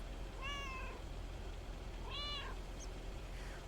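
A cat meows twice with clear tonal cries in the video game Lake, the calls quiet over a low steady background with no talk.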